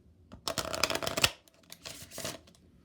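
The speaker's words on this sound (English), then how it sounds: "let's pull 2 Kipper cards" Kipper cards being pulled from a deck, with two bursts of close papery shuffling and sliding, a longer one followed by a shorter one, and no voices.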